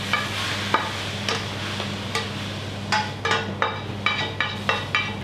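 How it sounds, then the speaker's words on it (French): A spatula stirs a beef and vegetable stuffing for eggplant nems in a bowl, giving repeated rhythmic scraping knocks that quicken toward the end, close and clear with no talk. "Donc on va venir mélanger la farce à la spatule comme ça."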